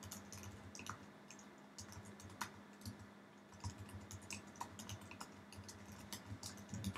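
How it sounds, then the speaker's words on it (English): Quiet typing on a computer keyboard, with steady soft key clicks and occasional louder taps over a faint room hum while entering code. "So I'm just going to go ahead and type those in."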